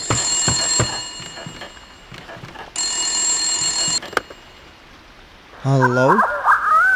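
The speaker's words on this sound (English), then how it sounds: "Phone." A telephone rings in the horror game White Day: A Labyrinth Named School, with two loud, steady electronic ring bursts separated by a pause, followed by a brief game sound effect.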